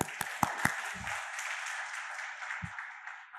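Applause from a church congregation during a worship service, a soft, even patter of clapping with a few sharper individual claps near the start.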